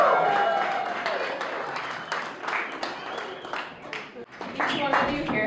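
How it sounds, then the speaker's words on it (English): Wedding guests in Stanley, Idaho give the newlyweds and a long-married couple a big round of applause, dense sustained clapping from a crowd with a voice carrying over it. "Big round of applause."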